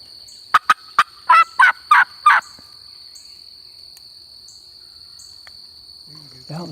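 Wild turkeys gobble in the woods during turkey season, a loud burst of rapid gobbling calls over a steady high insect drone, followed by near silence.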